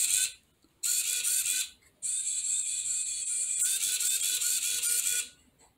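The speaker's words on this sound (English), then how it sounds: "this is a cool robot with a motor and a servo" A small robot's motor and servo whirring in short bursts separated by brief pauses, close and fairly quiet, with no talking.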